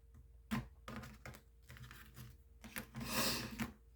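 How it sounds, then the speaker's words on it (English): A deck of oracle cards being shuffled and then cut: quick soft riffling and clicking card sounds close by, ending in a brief denser flutter, quiet and without talk. "And I will give it just one more shuffle and a quick cut."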